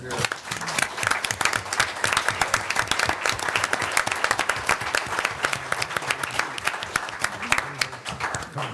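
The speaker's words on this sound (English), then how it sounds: "please give them a round of applause" An audience at a city commission meeting gives sustained applause, continuous crowd clapping at moderate volume from the room, with some murmuring voices mixed in.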